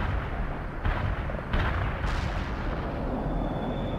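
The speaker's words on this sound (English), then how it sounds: "Artillery strike delivered." Artillery strike in the World in Conflict game: a dense rumbling barrage of distant booms and blasts, a few sharper bursts standing out from a continuous roar.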